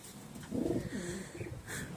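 Pigeons coo softly nearby in a loft, a low burbling call rising and falling over a quiet background, with a brief second coo near the end.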